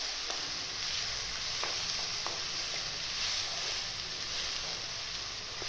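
Finely chopped onions fry in half a cup of oil in a wok, giving a steady, close sizzle that holds evenly throughout with no talking.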